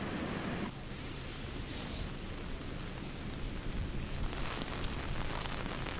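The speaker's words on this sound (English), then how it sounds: "really just the rain just consistently continues to fall into this area" Heavy rain from Hurricane Helene falling steadily around Charlotte, North Carolina, a dense, continuous hiss of rainfall with low rumbling gusts, fairly faint and without talk.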